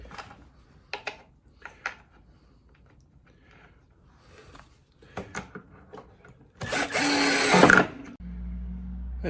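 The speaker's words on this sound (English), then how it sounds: "I'm using a cheap little screwdriver thing that I've got here. And you get 6 holes cut out of it" Cheap cordless screwdriver drilling holes in wood: scattered short ticks and handling knocks, then a loud, close whirring burst of about a second and a half, followed by a low hum.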